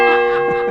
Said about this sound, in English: got to ring your bell